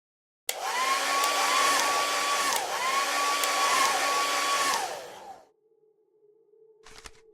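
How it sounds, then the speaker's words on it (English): A hair dryer from the Bendy and the Dark Revival game roars steadily and loudly with a wavering whine for about five seconds, then cuts off, leaving a low hum and a brief clatter. "Use hairdryer."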